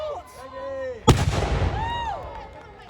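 A cannon fired by gunners at Arundel Castle goes off once with a sharp, loud boom that rolls away into a rumbling decay, while a crowd's voices are heard before and after the shot.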